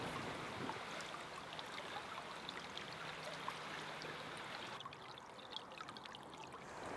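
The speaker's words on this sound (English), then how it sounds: "A small amount of water is left flowing into the weed pit" A small stream of water trickling and pouring steadily into a weed pit beside a chalk river, soft and continuous, faint and unbroken without voices.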